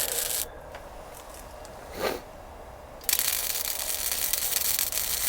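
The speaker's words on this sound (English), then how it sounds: "So now I'm finishing off the welding." Electric arc welding on metal plates crackles and hisses in bursts, stopping for a few seconds of quiet hum before a loud, sustained buzzing sizzle starts up again.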